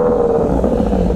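A Kawasaki Z900 motorcycle fitted with a LeoVince aftermarket exhaust rumbles loudly at close range, a deep, rough, continuous engine note with no talk over it.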